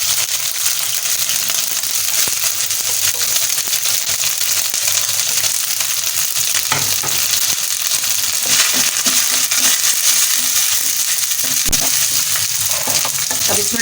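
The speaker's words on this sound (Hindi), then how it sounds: "अब इसमें हम डालेंगे चिकन।" Chicken fries in a pan with ginger and garlic, a loud, steady sizzle with constant crackle and occasional stirring scrapes and clinks throughout, close and without speech.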